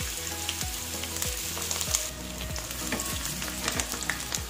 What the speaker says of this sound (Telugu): 3 లేదా 2 టేబుల్ స్పూన్ల నూనెని వేసుకొని వేడైన తర్వాత నిదానంగా వీటిని ఇందులో వేసుకోవాలి